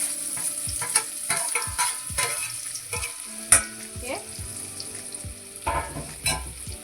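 Onions frying in a pan with turmeric, stirred in irregular scrapes and knocks over a steady sizzle, with a sharp clack near the middle; no voices.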